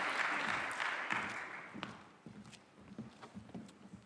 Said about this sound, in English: May we all welcome him with a round of applause